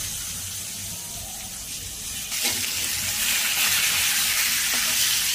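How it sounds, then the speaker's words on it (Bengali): Rohu fish frying in hot oil, a steady broadband sizzle that gets louder and more intense partway through and continues without pause. "প্রথমে মাছগুলো ভেজে নিচ্ছি"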